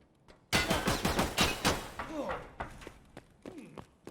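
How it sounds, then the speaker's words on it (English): Gunfire in the video game Escape From Tarkov, a sudden loud salvo of rapid close shots and thuds that thins into scattered single cracks, with a voice briefly heard. "Where was he shooting us from then?"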